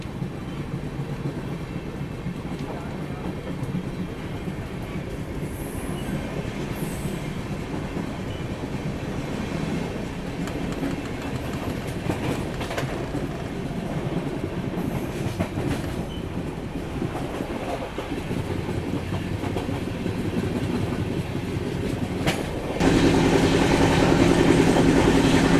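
The 12716 Sachkhand Express accelerates along the main line with a steady, loud rumble of wheels and rail clatter, growing heavier toward the end, with no voices.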